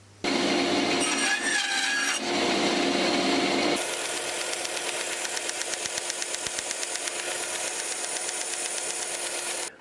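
A bandsaw cutting wood roughly to length, a loud continuous motor whine with rasping blade noise as the wood is fed, then a rapid rhythmic ticking buzz until the saw stops, close by.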